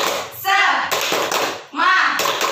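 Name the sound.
children doing the tepuk semangat clapping chant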